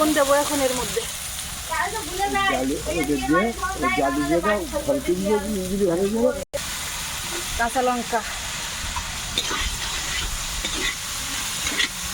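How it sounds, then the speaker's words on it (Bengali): Cabbage and other vegetables fry in a large pan while cooking for a crowd of a hundred, a steady hissing sizzle under speech throughout. "বাঁধাকপি সবজি সব আলাদা আলাদা ভেজে নেওয়া হচ্ছে"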